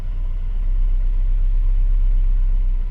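A Chevy S10 with a 2.2 engine and a newly replaced EGR valve settles into a steady low idle rumble, close and even throughout without any revving.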